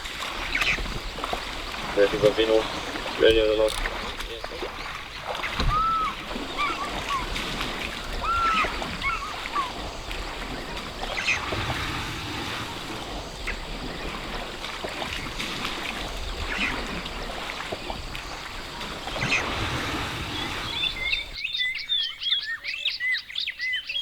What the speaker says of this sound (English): some elephant bulls splashing around in a little wallow that they've carved out alongside the Sand River